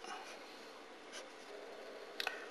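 Pen writing on paper during a maths lesson, faint close scratchy strokes with a few short sharper marks near the end, quiet and without talk.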